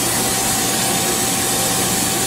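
Mori Seiki 1500SZ CNC lathe with its spindle running at 2,000 RPM, a steady, smooth machine hum and broadband whir with a faint constant tone, even and unbroken throughout.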